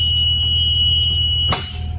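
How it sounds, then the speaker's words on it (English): A bus roof hatch alarm gives off a steady, shrill electronic tone during a pre-trip inspection, then cuts off with a sharp click or bang as the hatch is handled. "we're going to make sure we hear that alarm"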